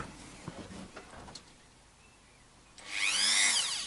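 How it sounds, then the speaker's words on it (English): Power drill working on an Indian-made Sunn Mustang strat guitar during setup, first light handling knocks and clatter, then a loud whirring drill burst starting near the end and running steadily to the close. "noisy drilly thing, and then a plug to put the noisy drilly thing in"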